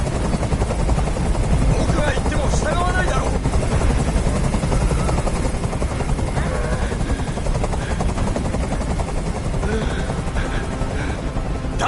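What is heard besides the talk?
helicopter hovering, from the video game Detroit: Become Human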